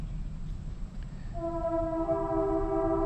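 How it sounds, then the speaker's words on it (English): Low rumble of a train passing on nearby railroad tracks at the Abraham Lincoln Boyhood National Memorial in Indiana, joined midway by a sustained multi-tone horn that holds steady to the end. "what you're hearing is a train, of course, from nearby railroad tracks"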